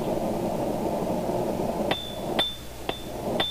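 Four sharp metallic ringing strikes of a cross peen hammer shaping a steel rosette at the edge of an anvil, spaced about half a second apart after a stretch of low background rumble, close and clear.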